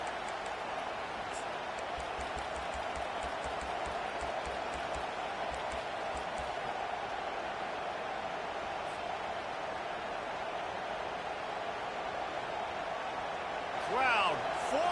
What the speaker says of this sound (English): Crowd, full throat, splitting the eardrums and letting them know it's going to be a long day.